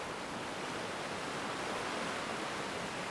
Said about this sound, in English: just listen to the waves. The beautiful and calmful waves.